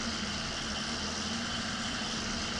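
A tractor engine drones steadily in Farming Simulator 19, a constant mid-level rumble with no breaks, heard alone.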